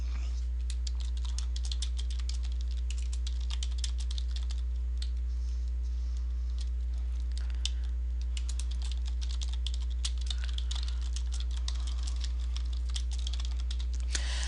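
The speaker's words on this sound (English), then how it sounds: "this is where you're going to type in your notes" Quick typing on a computer keyboard, a near and steady stream of light key clicks running throughout, with a low constant hum underneath and no talk.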